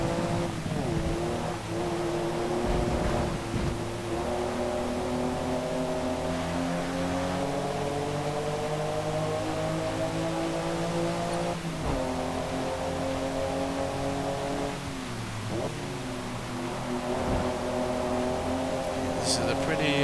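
Race car in Forza Motorsport, a modified car with added upgrades, its engine droning and revving through shifting harmonic tones for about twenty seconds, steady and fairly loud, with brief sharp transients along the way.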